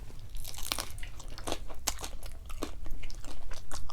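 Someone bites and chews chicken tacos with extra sauce at close range, soft crunches and wet mastication sounds repeating in an uneven rhythm.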